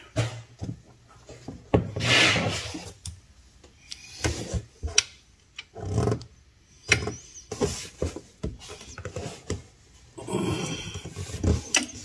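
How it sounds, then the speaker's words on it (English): Alternator mounting bolts on a 2014 Silverado 1500 with a 4.3L V6 are worked loose with a hand tool, a close series of rough grinding, scraping ratchet bursts separated by short pauses. "Now let's get those main bolts out."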